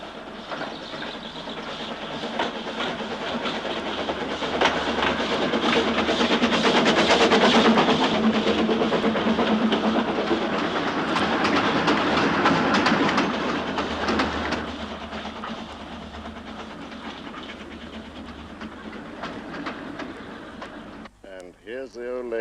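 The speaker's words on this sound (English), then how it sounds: "Here's the old lady with a heavy train just reaching Dolgoch" The old lady, a steam locomotive hauling a heavy train, reaches Dolgoch through steep wooded foothills, a rumbling, rattling rolling sound that swells to a loud peak midway with clickety-clack of wagons, then eases off as it passes.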